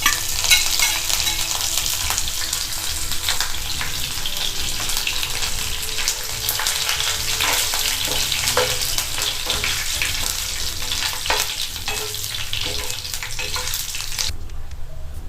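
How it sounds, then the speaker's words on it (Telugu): Black gram dal, chana dal and curry leaves frying in oil in a pan for a gherkin dish, a steady close sizzle with stirring scrapes throughout, no talking. "వీటిని కొంచెం ఎర్రగా వచ్చే విధంగా ఫ్రై చేసుకుందాం."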